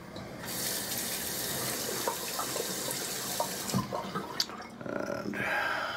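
Tap water runs into a sink to rinse shaving whiskers from a razor, a steady close rush that gives way to splashing and dripping near the end, with no speech.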